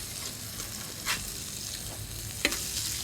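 Brat smashburger patties hiss loudly on a hot flat cooking surface, with two sharp spatula scrapes and clunks as they are flipped over the steady sizzle.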